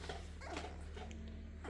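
Puppies whimpering and yipping softly together, a continuous faint cluster of thin, high whines over a steady low background hum.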